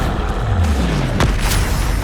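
A Confringo fire spell bursts in the Hogwarts Legacy video game, a loud low boom with a falling rumble, followed by a sharp crackling impact under steady game noise.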